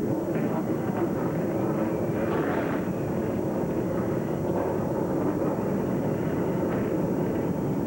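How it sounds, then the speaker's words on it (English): NASCAR Featherlite Southwest Tour race cars fire up their engines at the start of a 150-lap race, a dense, loud, continuous roar of many motors with crowd and track ambience blending in. "Gentlemen, start your engines!"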